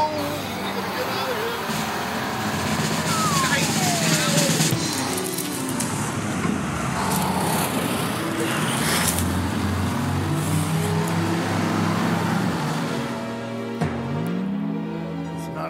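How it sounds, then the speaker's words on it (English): A Marine Corps LVS Logistics Vehicle System driving, a heavy truck engine rumbling and revving steadily with shifting tones, fairly close, with people talking over it throughout. "This is the LVS, the Logistics Vehicle System."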